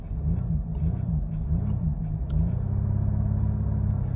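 A Jaguar XJ X350 diesel with a suspension fault idles with a low, steady rumble, then gets a light rev that lifts the engine note briefly before it settles back to a smooth drone.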